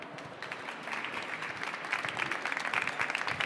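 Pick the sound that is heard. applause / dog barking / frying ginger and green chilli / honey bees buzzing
applause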